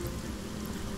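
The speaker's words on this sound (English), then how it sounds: "Raining inside a cave." Steady heavy rain inside a cave in the video game Divinity: Original Sin, a dense even hiss with a low rumble beneath it, continuous throughout.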